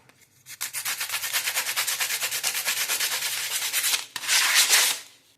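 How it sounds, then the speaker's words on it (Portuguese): One side of a CD is sanded by hand with sandpaper, a loud rhythmic scratching of rapid back-and-forth strokes, close up, followed after a brief pause by a final longer, harsher rub. "E eu vou lixar também apenas um dos lados do CD, também para fazer as mesmas ranhuras."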